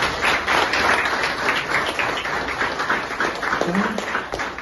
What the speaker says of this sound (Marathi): सगळ्यांसाठी टाळ्या व्हायला पाहिजे